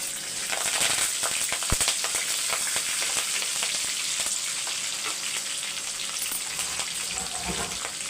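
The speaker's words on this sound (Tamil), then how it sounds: "நல்லா பொரியட்டும் ரெண்டு பச்சை மிளகாய் உடச்சி சேர்த்துக்கோங்க அதுக்கப்புறம் வந்து கொஞ்சம் கருவேப்பிலை" Broken green chillies and curry leaves crackle and sputter in hot oil, a loud continuous frying hiss with sharp pops and occasional scraping stirs, no voices.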